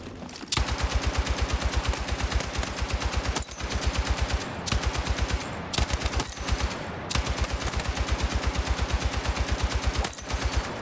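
An LMG fires in long sustained bursts in Battlefield 6, rapid rhythmic shots hammering close and loud, broken by a few brief pauses between strings of fire, with no talking.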